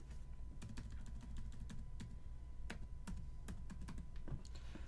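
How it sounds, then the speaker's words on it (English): Rapid clicks of typing on a computer keyboard, close and fairly quiet, in uneven bursts of keystrokes with no talking. "just type that in"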